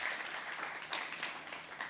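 Audience applause at an Uber 10-year anniversary event in South Africa, a dense continuous wash of clapping at moderate distance throughout.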